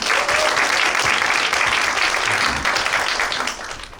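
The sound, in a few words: applause from a forum audience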